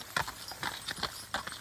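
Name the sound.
horses' hooves clip-clopping as they are led through a gate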